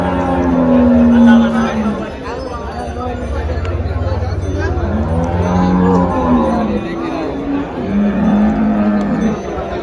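A cow moos in long, deep, drawn-out calls close by at the Dhule cattle market, with people talking in the background.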